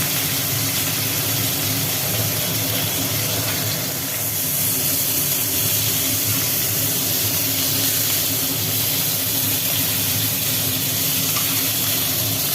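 Snakehead fish frying in hot oil make a loud, dense, continuous sizzle and hiss with a steady roar underneath, close up and with no talking.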